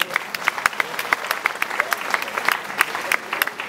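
Crowd applause at the opening of the 2016 Eauze festival during an awards roll call of regional champions, dense rhythmic clapping with sharp individual hand claps standing out, close and steady throughout.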